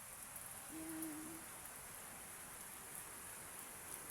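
Rain falling on garden plants, a very faint, steady patter and hiss heard from nearby, with one short hooting bird call early on.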